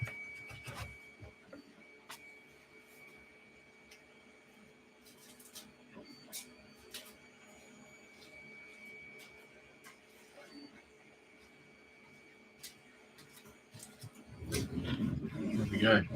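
A printer making a router template for coffee trays whirs steadily with faint ticks and rubbing sounds, and a voice comes in near the end.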